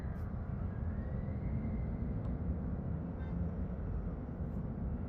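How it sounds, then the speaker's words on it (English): Roller coasters at an amusement park producing a constant low roar like distant airplanes, a steady rumbling drone held throughout. "the roller coasters themselves sound like almost like an airport"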